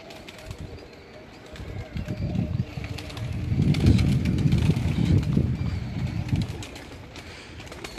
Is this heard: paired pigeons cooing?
yes